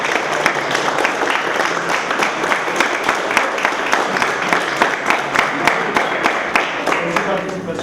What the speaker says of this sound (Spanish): Me gustaría que le dieran un gran aplauso a la licenciada Alba.